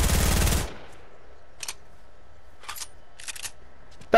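A new exotic weapon fires in Fortnite creative mode (update v23.40). A loud, rapid burst of shots opens the clip and cuts off sharply, followed by a few brief, faint clicks and mechanical snaps over near silence.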